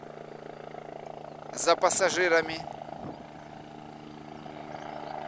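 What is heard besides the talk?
helicopter coming in to land at a heliport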